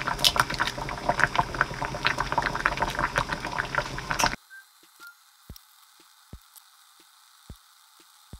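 Water boils in a pot on a home stove while chicken curry and eggs are cooked, a busy bubbling rumble lasting about four seconds before cutting to near silence with a few faint taps.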